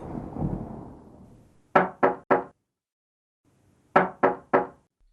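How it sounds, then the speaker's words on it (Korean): Someone knocks on a door in two crisp sets of three quick raps, separated by a pause of about two seconds. A fading rumble comes before the first set. "노크 소리."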